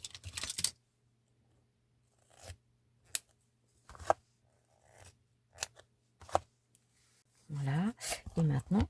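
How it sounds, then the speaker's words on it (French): Scissors cutting paper at an angle while binding a handmade mini album built on envelopes: several short, crisp snips spaced apart in a quiet room, close and fairly faint, with rustling paper handling at the end. "c'est tout simplement venir couper en biais"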